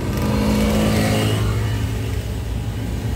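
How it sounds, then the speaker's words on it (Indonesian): Vehicles pass on a road through a forest in the early hours before dawn, a steady engine rumble swelling loud and close, then easing slightly as traffic moves by. "Oh ya, ada kendaraan rame."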